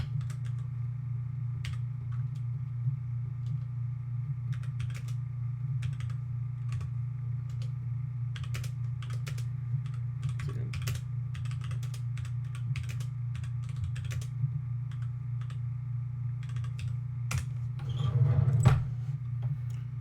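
Quick, irregular typing on a computer keyboard while sending a message, scattered clicks in short bursts over a steady low electrical hum, close by and without speech.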